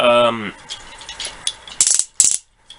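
A Transformers Combiner Wars Hot Spot toy's ratcheting joints clicking as the limbs are moved. A voice comes first, then quiet creaks and a couple of sharp, bright ratchet bursts close by.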